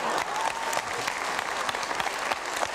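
Audience applause fills a theatre during a Hungarian stand-up comedy show, a steady dense clapping that holds evenly throughout, loud and close, with no talking over it.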